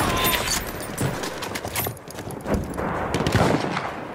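Rapid machine gun fire and battle noise from Battlefield 1, a World War I multiplayer shooter on PS4 Pro, with dense overlapping shots and bursts that hold steadily loud across the whole stretch.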